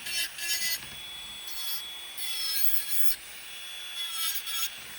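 A small nail drill whirs at a high pitch while grinding acrylic gel on a nail in short repeated passes, close up, with brief pauses between strokes.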